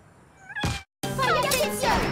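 A short cartoonish cat meow from the WarioWare Move It video game sounds briefly, then a cut to the game's announcer voice speaking.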